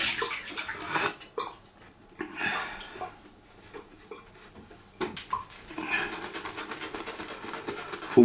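Water runs and splashes in bursts while preparing for a traditional wet shave with a straight razor, close and uneven, with clinks and pauses between the flowing stretches.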